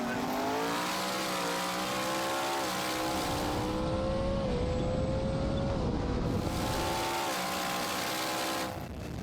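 A 1000-horsepower twin-turbo Ford F-150 pickup roars down the street at midnight, its engine climbing through several revving gear pulls, loud and close, then fading as it passes.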